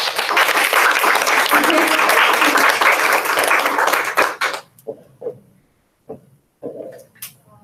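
Loud, close applause from a grad student panel audience, sustained for about four seconds before stopping abruptly, followed by scattered talk and a few isolated sounds.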